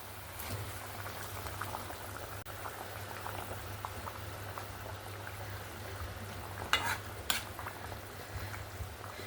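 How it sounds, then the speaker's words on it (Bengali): Fish and eggplant curry gravy for a Bengali tangra catfish dish boiling steadily in a pot, a continuous bubbling simmer with a low hum beneath and a couple of brief louder clinks near the end, no talk. "এবার জুসটাকে ফুটতে দেব। ঝোলটা কিন্তু সুন্দরভাবে ফুট চলে এসছে।"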